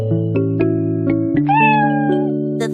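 A cartoon kitten gives a high, drawn-out meow over a steady sung nursery-rhyme backing of sustained tones, clear and prominent, with no speech.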